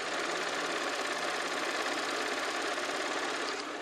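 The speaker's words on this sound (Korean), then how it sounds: "이제 나가서 6기통 3000cc 휘발유 엔진 사운드는 어떤지 한번 확인해 보도록 할게요." Audi A6 Quattro with a six-cylinder 3000cc petrol engine idling with the hood open, a quiet, steady, even hum with a fine rapid ticking texture, heard alone and unchanging throughout.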